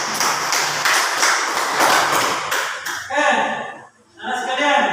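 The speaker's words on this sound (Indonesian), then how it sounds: "marilah kita tepuk tangan untuk hasil kerja keras kalian." Students in a classroom break into dense, steady clapping for about three seconds, then it stops and a voice talks.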